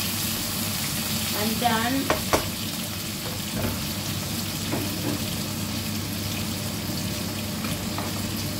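Food fries loudly in a pan with a steady close sizzle, and a few stirring clinks and scrapes near the start. A voice speaks briefly under it.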